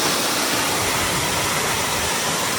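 Water flows through a valley as a dense, continuous rushing roar, loud and unbroken, with no talking.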